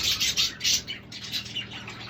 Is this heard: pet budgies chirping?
yes